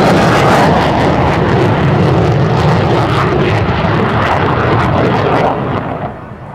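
An F-16 and a World War II P-51 fly a heritage flight dedication pass at an airshow, a loud sustained roar of jet and propeller engines that fades toward the end.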